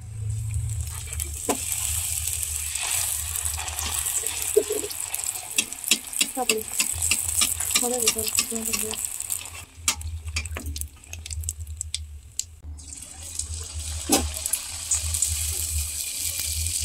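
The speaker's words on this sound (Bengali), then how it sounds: "তেলটা গরম হয়ে গেছে, এখন একটা একটা ফুচকা দিয়ে দিই।" Fuchka puffs hiss and sizzle steadily in hot oil, a constant frying crackle throughout, while someone speaks softly over it.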